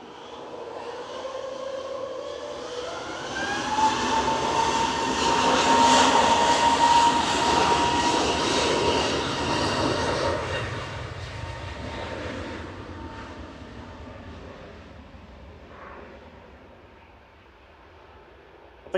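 A jet airplane's engines roar on takeoff at Manchester Airport, swelling to a loud peak with a rising whine, then gradually fading as the aircraft climbs away.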